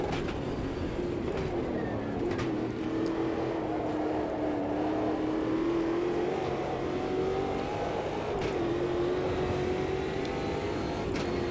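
Race car engines droning steadily in the Automobilista 2 racing game, a continuous tone that rises and falls through gear changes as the car chases two rivals, loud and constant with no talk.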